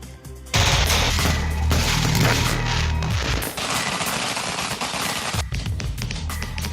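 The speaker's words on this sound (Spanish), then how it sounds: "es rutina que los fuegos artificiales y disparos sean parte de las noches en algún punto del país" Rapid volleys of gunshots and bursting fireworks at a night-time funeral crack and boom loudly and continuously for several seconds, dense and overlapping, with a brief lull before more bangs.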